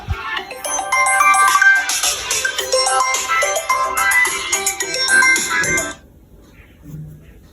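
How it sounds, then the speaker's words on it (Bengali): A phone ringtone plays loudly as a bright melodic tune for about six seconds, then stops abruptly, leaving near silence. "ফোন বাজে দেখো তো"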